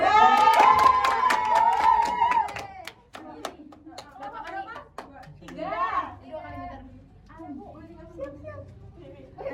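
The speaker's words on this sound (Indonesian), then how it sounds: "tepuk tangan." A microteaching classroom group claps briefly in a quick burst while a voice talks over it, followed by children's chatter and scattered voices.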